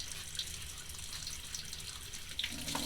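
A paint brush being rinsed under a running tap, steady close water gushing into a sink with small splashes and drips throughout, no talking.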